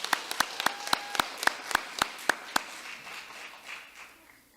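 At a middle school awards ceremony, a few sharp, evenly spaced claps ring out close by, then the clapping fades into a soft, thin patter from a small audience.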